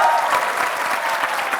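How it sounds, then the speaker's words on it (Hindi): Dense, steady applause from a television studio audience greeting three guests, a loud continuous wash of clapping with no pauses across the short stretch. "एक बार जोरदार तालियां तीनों के लिए।"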